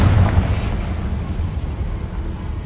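Hogwarts Legacy's explosive Confringo spell lands as a low, rumbling blast that stays steady and heavy throughout, with no voices over it.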